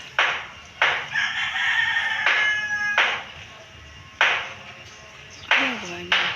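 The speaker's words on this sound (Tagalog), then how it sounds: "Ingay din pala yung manok dito sa side." A rooster crows nearby in a pine-tree setting, with drawn-out calls breaking into a short strained final crow, between bursts of people chatting close by.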